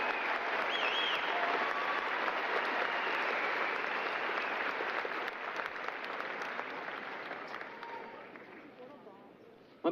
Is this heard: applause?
yes